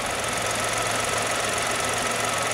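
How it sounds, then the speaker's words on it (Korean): A Kia Morning (The New Morning) engine idles steadily with a low, even mechanical hum and faint regular ticking, close and continuous with no talk. "해당 차량 엔진 소리도 제가 한번 담아드리도록 할게요."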